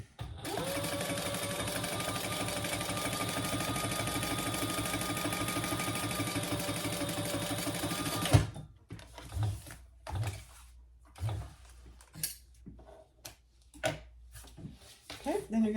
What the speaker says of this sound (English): And then top stitching.